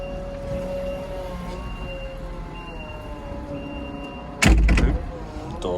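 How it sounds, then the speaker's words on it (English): On a farm yard near a weighbridge, a vehicle's engine hums steadily before doors bang back with one loud, sharp, close crash near the end, followed by a brief rattle. "Doors bang back."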